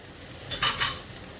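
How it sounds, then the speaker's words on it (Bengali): Spice paste for a rohu fish curry with ridge gourd and potatoes is stirred in a pan: a quiet frying hiss broken by two or three quick scraping strokes of a spoon, no talking. "মশলাটা তো কষিয়ে নেব একটু ঢাকা দিয়ে কষাচ্ছি"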